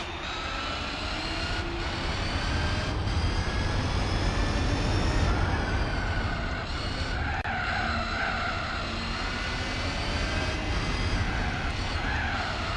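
Jaguar car engine in the racing video game Gran Turismo 4, a steady loud drone with shifting harmonics and tire skidding throughout, no talk.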